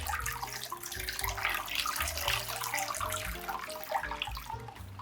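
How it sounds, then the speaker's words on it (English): Steady running water splashing and sloshing close by as a bamboo sticky rice basket is rinsed, with a continuous rushing wash and no talk. "Rinse each basket 2 to 3 times until water runs clear."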